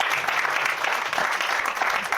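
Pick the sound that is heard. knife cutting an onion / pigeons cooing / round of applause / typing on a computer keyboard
round of applause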